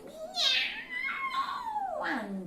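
A storyteller's voice imitates a frightened cat's meow, a drawn-out rising and falling wail lasting about two seconds, close and fairly loud, told as part of a children's folk tale.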